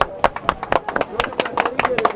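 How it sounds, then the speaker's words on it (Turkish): Rhythmic hand clapping from a crowd at an outdoor street-market election campaign event, sharp repeated claps in a quick, uneven beat, close and fairly loud. "Alkış."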